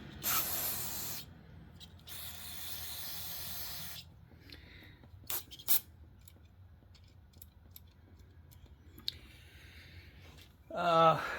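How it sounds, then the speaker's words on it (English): Quick spritzes of spray hiss onto the underside of an Echo SRM 225 string trimmer in two close, fairly loud bursts, followed by quiet handling clicks and a louder rustle at the end. "We'll give it a spritz on the bottom, hope I don't get in my eye."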